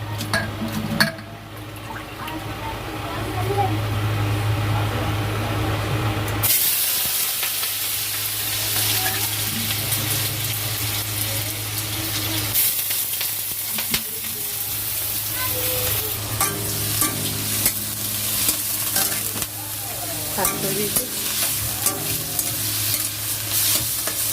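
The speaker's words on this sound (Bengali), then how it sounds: "তো আগে সবজিগুলো ভেজে নিই" Vegetables frying in oil in a pan while being stirred, a constant loud sizzle broken by scraping and clattering of the spoon, with a brief quieter stretch at the start.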